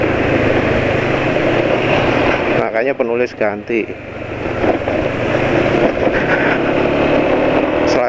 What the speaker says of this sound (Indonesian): Kalau sekarang gemeletukannya yang banyak suaranya.